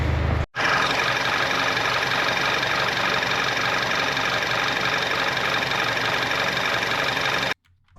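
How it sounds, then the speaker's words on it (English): A 2.0 TFSI engine in an Audi A5, just repaired with a new camshaft bridge valve magnetic kit, runs at a steady idle with a continuous, even hum that briefly cuts out near the start and stops abruptly near the end. "After replacing camshaft bridge valve magnetic kit, the engine finally started running the way it should"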